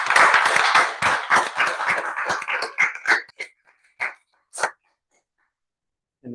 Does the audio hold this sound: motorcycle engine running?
no